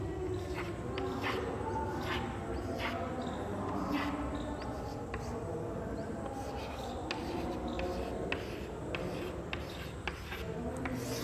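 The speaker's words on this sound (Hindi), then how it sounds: "इस तरह से मैं लिख देता हूँ जल्दी से।" Marker or chalk scratching across a classroom board as a teacher writes quickly during a primary-school maths lesson, a steady run of short strokes and taps at moderate level with no talking.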